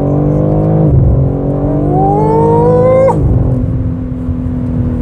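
A 2022 BMW M3 Competition xDrive accelerates hard at full throttle on a straight road. The engine note climbs steadily, breaks at a quick upshift and then climbs again, loud and close with no talking.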